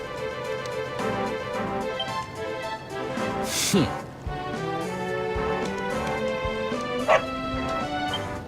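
A dog barks a few times in the fantasy role-playing game Dragon Quest XI, short yaps rising over steady game music with a voice talking underneath.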